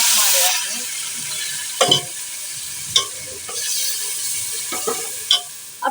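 Tomato and green chili paste hits hot oil and browned onions in a karahi for chicken koyla karahi, bursting into a loud, steady sizzle punctuated by several sharp scraping strokes of a spoon.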